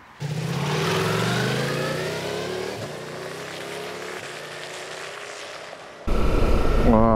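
A 2022 Ducati Multistrada V4S adventure motorcycle being ridden, its engine a steady close drone that climbs in pitch as it accelerates, ending in a sudden louder, rougher burst of engine and wind noise.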